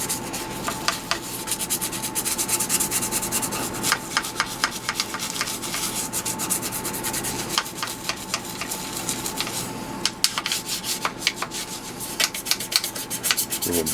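Scrubbing around the tube sockets on an HP 200AB audio oscillator chassis during restoration, a close, continuous brisk rubbing with rapid back-and-forth scratchy strokes.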